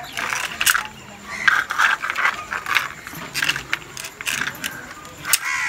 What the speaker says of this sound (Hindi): वो चाबी खींचते हैं तो गाड़ी चलने लगता है